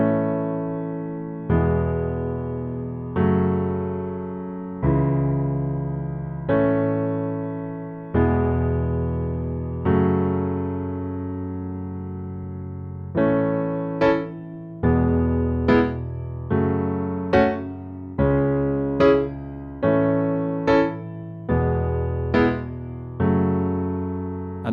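Solo piano plays the first verse of a song, with slow sustained chords that change every couple of seconds before a brighter, more rhythmic passage of repeated chords in the upper register, close and without talking.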